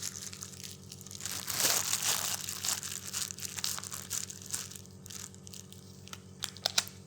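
A medical probe pops through its paper packaging during an upper blepharoplasty procedure setup, giving soft crinkling and crunching paper sounds. They peak briefly near the start and are heard over a steady low hum.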